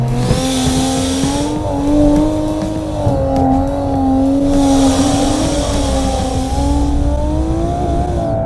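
A Nissan Skyline road car driven hard, its engine droning and revving loudly up close with tire squeal blending in, and no talking.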